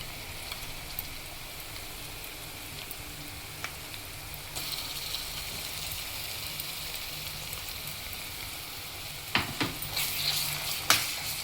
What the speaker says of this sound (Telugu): పచ్చి వాసన పోయేలాగా వేపుకోవాలి అల్లం వెల్లుల్లి పేస్ట్ అంతా.